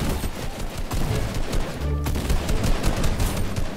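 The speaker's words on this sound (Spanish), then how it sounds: "¡Están disparando!" Gunfire in a Fortnite match, loud dense bursts of shots filling the whole stretch, with rapid rattling fire and impacts, no talk over it.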